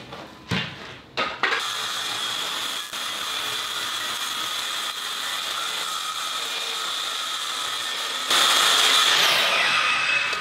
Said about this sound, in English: we're going to hack off 2 feet of this 4x8